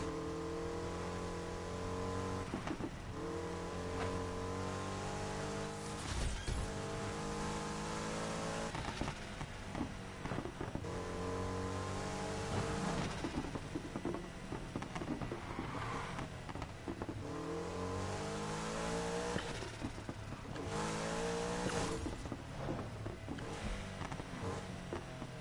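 Volkswagen Beetle racing in the video game Need for Speed Heat: a small engine revving up and down through repeated gear shifts, loud and continuous across the run, with no talk.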